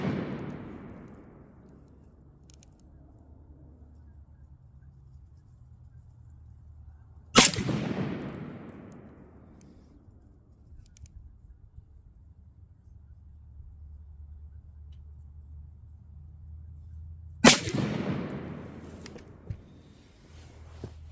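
Two sharp pistol shots fired at a red-dot target from an AR pistol, each a loud crack with a long ringing decay, spaced about ten seconds apart outdoors amid low background rumble.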